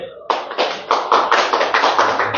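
Group of people clapping at a Yamaha R15M motorcycle delivery in a bike showroom, a steady burst of applause starting abruptly and continuing at an even, fairly loud level.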